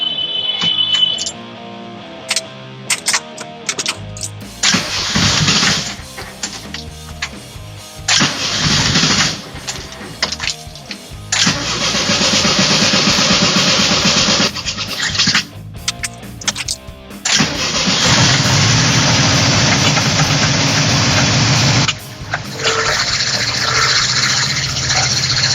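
A vintage VW Mexican Beetle engine cranks in short stuttering bursts, then catches and runs loud and close, settling into a steady, raspy idle with brief dips along the way and no talk.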